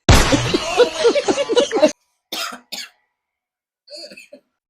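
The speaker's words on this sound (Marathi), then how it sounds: "2 मिनिटातच तुम्हाला खोकला येतो का किचन मध्ये?" A few short, harsh coughs in a kitchen after a stretch of busy clattering and voices, then quiet with brief bursts.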